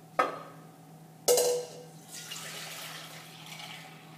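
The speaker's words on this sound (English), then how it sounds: "Okay, I'm just going to pour my juice in here." Fresh juice from a juicer poured into a measuring bowl: two sharp clinks of container contact, then a soft, steady trickle of liquid that continues quietly to the end without talk.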